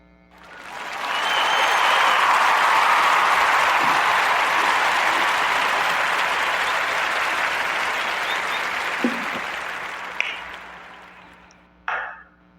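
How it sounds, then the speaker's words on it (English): A warm round of applause from a podcast audience, swelling quickly and holding as a dense, steady wash of clapping before tapering near the end, with a couple of faint clicks. "So give a warm round of applause to the young brother Trey and Trey Squeeze"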